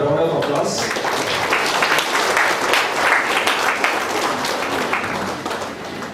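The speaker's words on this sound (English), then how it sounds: "Can we have a round of applause?" A seminar audience applauds steadily, dense clapping filling the room for several seconds before tapering slightly at the end.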